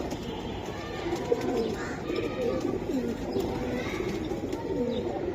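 Silver Giribaz pigeons coo steadily in a low, overlapping murmur at a busy pigeon market, with indistinct crowd chatter and bustle running underneath throughout.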